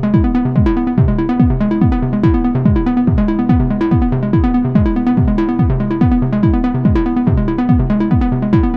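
Vermona Perfourmer analog synth sequence with all notes enabled and panned, a fast repeating pattern of plucky descending bass-heavy notes in a steady pulsing rhythm, loud and alone for minimal techno.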